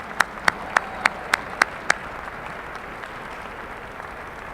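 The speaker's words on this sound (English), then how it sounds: "Let's just clap as they come up here" About seven sharp, evenly spaced claps ring out over a couple of seconds as award winners come up at a 2018 gala awards ceremony, then stop and leave only a low room murmur.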